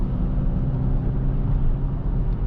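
Steady, close rumble of a 2025 Mercedes A35 AMG facelift accelerating, heard from inside the cabin as an even low drone with no talking.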